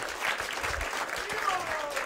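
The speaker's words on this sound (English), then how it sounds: "Can we have a loud round of applause for Jai Jagannath Prabhu?" A short burst of applause from an audience at the Bhakti Center after a kirtan performance, dense and steady throughout with voices mixed in beneath the clapping.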